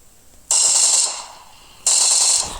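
Two bursts of rapid automatic gunfire from a new weapon in a video game, each a sharp rattling spray lasting about half a second, separated by a short pause.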